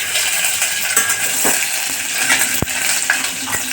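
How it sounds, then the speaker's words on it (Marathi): Curry leaves hiss and crackle as they fry in hot oil for Khandeshi masala khichdi, with a steady sizzle broken by a few sharp pops and a spoon clinking against the pan. "आता हे कढीपत्ते टाकूया"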